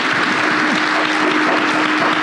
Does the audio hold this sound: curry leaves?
no